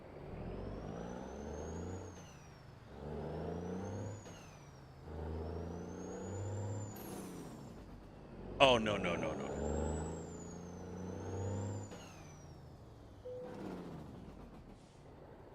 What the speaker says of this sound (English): No, I do not like that engine brake.